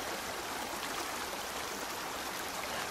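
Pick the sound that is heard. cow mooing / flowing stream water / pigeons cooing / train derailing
flowing stream water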